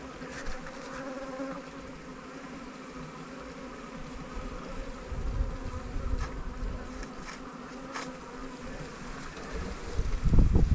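A honeybee colony being shaken out of its hive, the colony headed by a drone-laying queen: a dense, continuous buzzing swarm close to the microphone with some wind rumble, swelling louder toward the end.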